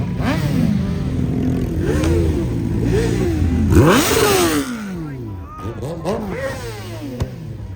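At a JDM car meet, engines rev close by in repeated rising and falling sweeps, loud and harsh, with other engine noise and people talking around them.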